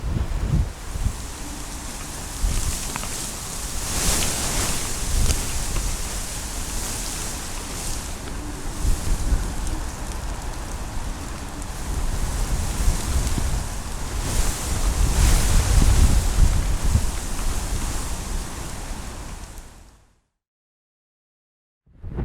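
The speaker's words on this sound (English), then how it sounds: "record the sound of the wind in the leaves" Wind blows through tree leaves, recorded close up by microphones placed among the branches, a broad continuous rustling roar that swells and eases in gusts for about twenty seconds, then cuts to silence.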